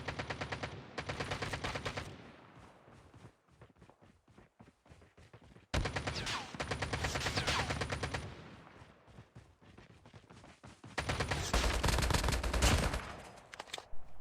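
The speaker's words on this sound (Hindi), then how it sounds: "बंदे ने पहले मेरे पर फायरिंग किया और फिर जाके पता चला कि भाई बंदा किधर है।" Bursts of automatic gunfire ring out in the mobile shooter game COD Mobile, with three long sustained volleys separated by quieter gaps holding scattered single shots.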